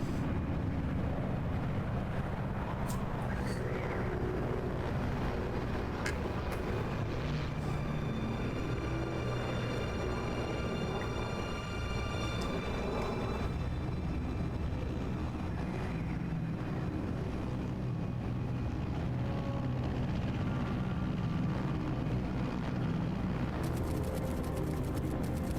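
Aircraft engine in Metal Gear Solid Delta drones steadily throughout, a loud continuous low rumble with faint tonal whines drifting above it and no talk.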